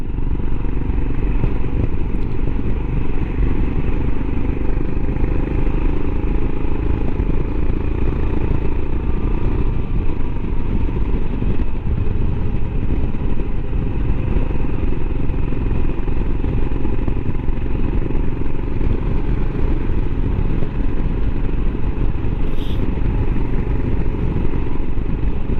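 A Royal Enfield Himalayan motorcycle ridden on a road heading home through Normandy: a steady, loud engine drone with constant wind rush and rumble, unbroken for the whole stretch.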